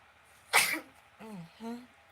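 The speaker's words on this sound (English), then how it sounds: "I rarely sneeze while I am on live." A single sharp human sneeze, close and loud, followed by a couple of short voiced sounds like a brief murmur afterward.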